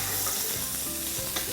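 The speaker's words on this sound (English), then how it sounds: "So here's my garlic and some ginger. Give that a little stir." Garlic and ginger stirred in a hot pan for a zucchini noodle stir fry: continuous close sizzling with soft scraping pulses from the stirring, no voices.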